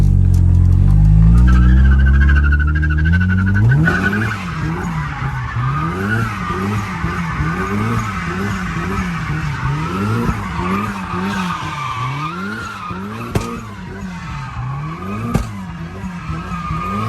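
Car tires squealing and skidding through drifting donuts, preceded by a loud revving engine, then repeated rising-and-falling tire screeches in a rhythmic cycle, close and loud, mixed with engine drone.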